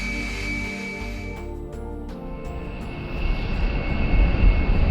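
A B-1B Lancer jet engine roars steadily at close range during a ground test, with a high whine, building louder and rougher toward the end.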